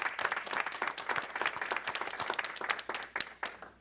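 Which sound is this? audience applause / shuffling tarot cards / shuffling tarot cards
audience applause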